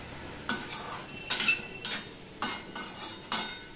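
A spatula stirs vegetables and peas in a pan, giving about six distinct close scraping sweeps in a steady rhythm over a faint sizzle, no talk.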